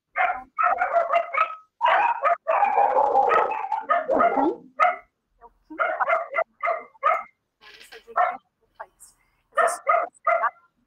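Someone speaks throughout an online meeting while a dog close to one participant's microphone seems to bark intermittently, mixed in with the talk.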